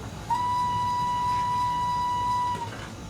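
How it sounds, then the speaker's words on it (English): LNWR G2 steam locomotive normal whistle in a train simulator game: one clear, steady whistle held for about two seconds, then cut off, over a low engine rumble. "So here's what the normal whistle sounds like."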